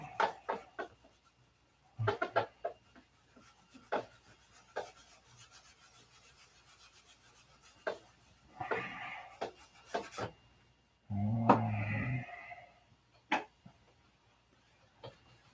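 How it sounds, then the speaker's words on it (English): Sanding an airplane's clear-coated surface: scattered short rasping strokes and taps, mostly faint, with a couple of louder, longer scrubbing passes and one heavier burst, separated by quiet gaps. "how do you get a shiny airplane? It's sanding."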